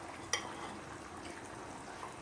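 Fish curry gravy in the Kerala Malabar style simmers in a pan, a faint, steady bubbling hiss with one small clink near the start and no talking.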